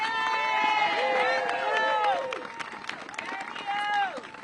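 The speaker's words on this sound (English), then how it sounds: "So give yourself a round of applause." Crowd at a Democratic rally to protect Social Security cheers and whoops with scattered clapping, loud rising voices and shouts overlapping, briefly easing midway before swelling again.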